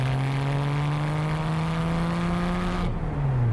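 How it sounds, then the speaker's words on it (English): A Porsche 911R's exhaust drones in a steady, loud engine note while driving, then shifts pitch near the end as the revs change. "It's got really great exhaust sound"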